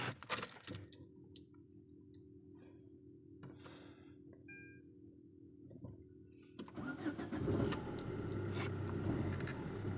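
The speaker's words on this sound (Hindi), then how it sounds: "गाड़ी स्टार्ट कर दिया" A car engine cranks and catches, then settles into a steady idle that rises to a louder rev near the end, with faint clicks and handling noises around it.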